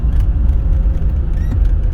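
A Land Rover Defender drives and turns around on a private track before a public highway, its engine a steady, close low rumble throughout with a few brief knocks and a light squeak, no voices.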